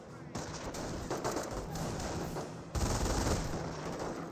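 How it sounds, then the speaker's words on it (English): MG42 machine gun and rifle fire in a Company of Heroes battle, a dense continuous crackle of rapid shots with a louder burst near the end, mixed with game ambience and a commentating voice. "Volk's Grenadiers and MG42 now firing away."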